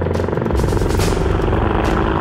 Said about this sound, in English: a pair of US Apache helicopters has also come to take a look